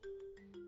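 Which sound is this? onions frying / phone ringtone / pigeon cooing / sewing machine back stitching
phone ringtone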